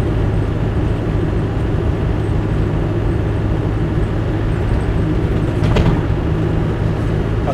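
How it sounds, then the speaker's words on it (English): A Land Rover Defender 90 200TDi hardtop is driven, its diesel engine and road noise forming a loud, constant low rumble from inside the cab with a brief rattle near the end. "Nice driving Defender."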